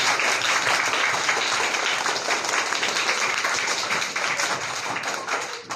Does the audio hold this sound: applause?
yes